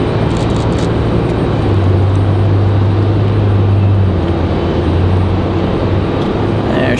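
A Boeing 787 Dreamliner jet at Raleigh-Durham International Airport produces a loud, constant broadband roar with a low steady hum, heard close and continuous without breaks.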